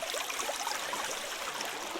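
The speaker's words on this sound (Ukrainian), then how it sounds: "Ось такий мене персональний водоспад." Water trickles and splashes steadily down a small waterfall beside a house, a continuous, fairly faint babble with no voices over it.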